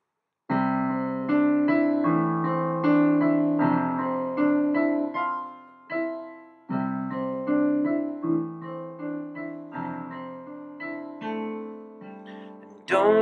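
Piano playing a song, solo chords and melody at a gentle, flowing pace with brief pauses between phrases, clear and close, no voices.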